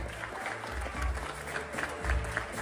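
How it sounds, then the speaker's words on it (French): Short burst of applause from holiday guests at a hotel bar in Djerba for the bar chef, moderate clapping mixed with crowd murmur and low background music. "On va applaudir notre chef de bar"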